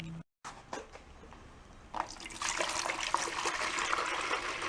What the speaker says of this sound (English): Let's throw some water in it